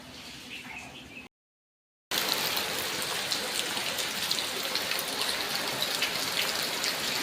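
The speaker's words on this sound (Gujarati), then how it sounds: "આજે બહુ જ વરસાદ છે" Heavy rain pours down steadily in a dense, continuous hiss with no voices, cut off by a brief silent gap about a second in before it resumes just as loud.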